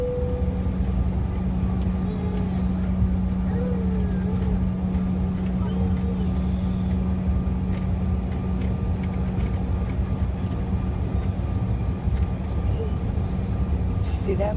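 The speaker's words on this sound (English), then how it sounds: "Looks like we're number one for takeoff, so we'll be departing in just a few moments." Airliner engines drone steadily before takeoff, a constant loud rumbling hum heard from inside the cabin, with voices speaking over it.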